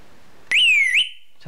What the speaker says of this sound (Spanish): sonará la sirena y aquí veremos que hay alarma de fuego